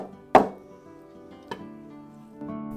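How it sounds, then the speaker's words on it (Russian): A few knife chops strike a cutting board cutting peeled shrimp, one sharp thud followed by softer cuts, close up over faint background music. "Уже очищенные креветки нарезаем."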